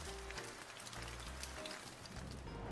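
Steady rain falling on a surface, a dense continuous patter at even loudness throughout with no voices.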